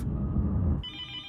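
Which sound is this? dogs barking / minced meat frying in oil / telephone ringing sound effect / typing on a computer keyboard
telephone ringing sound effect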